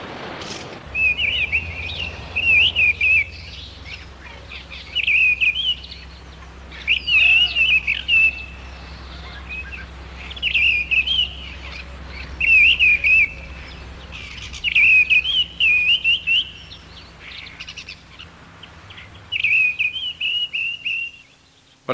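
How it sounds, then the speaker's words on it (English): Three mistle thrushes sing against each other in a territorial contest, their fluting phrases repeating every couple of seconds at fairly close range over a low, steady background hum. "Not one mistle thrush, but three."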